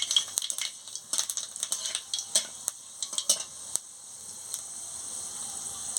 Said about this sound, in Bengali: এবার তেল গরম হয়ে গেছে, আমি শুকনো লঙ্কার ফোড়নটা দিয়ে দিচ্ছি।